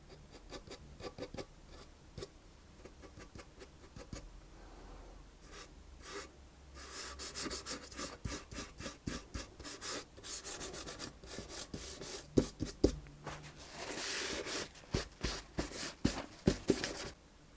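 Old-wood pigment, a golden brown, is rubbed onto an aged varnish finish, giving a steady, close, dry scratching and scrubbing with quick repeated strokes that grow busier and louder partway through.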